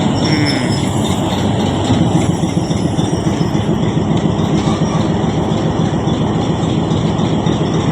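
A locomotive moves in to couple with the 12 Down train at Havelian railway station, giving a loud, steady rail rumble with metallic rattling that runs unbroken throughout.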